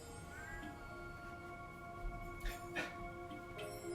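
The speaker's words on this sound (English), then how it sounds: "We can just hear the cats talking to each other right now." Cats meowing back and forth in a quiet room during a yoga session, a few faint, short meows scattered over a soft background hum.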